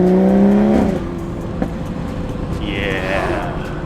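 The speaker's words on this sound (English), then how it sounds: "Last baby pull of the stock turbo." A BMW F30 340 on its stock turbo pulls hard, a loud close engine note that climbs and then eases off, followed by a rising turbo whine near the end.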